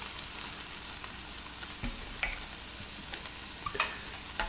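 Softened beans fry in a pan as spices are added, giving a soft, continuous sizzle with scattered light ticks and scrapes of stirring, close and fairly quiet, with no voices.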